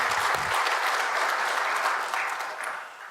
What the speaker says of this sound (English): let us give him a great big round of applause